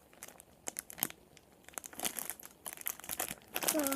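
Large, crinkly plastic packaging for a squishy toy being handled, with irregular sharp crinkles and rustles close up, building into denser crumpling toward the end.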